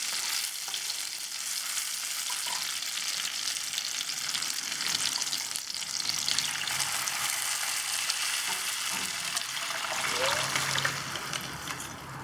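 Curry liquid for a Nellai-style roasted-spice fish curry is poured over fried onions in a hot pan, setting off a loud, continuous hissing sizzle that swells slightly near the end.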